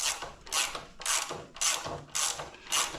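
A ratchet loosens a front brake caliper bolt on a Honda VFR800 VTEC motorcycle, with six evenly spaced bursts of close clicking as the handle swings back and forth.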